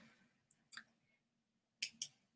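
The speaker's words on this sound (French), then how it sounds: "Je fais un contrôle-clic ou clic droit et je clique sur" A computer mouse gives four crisp, quiet clicks in two pairs, close up in an otherwise silent room.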